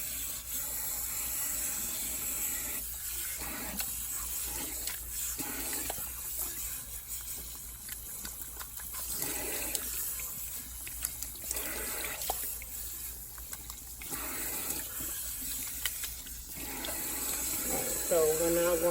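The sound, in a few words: cold tap water running while rinsing hair extensions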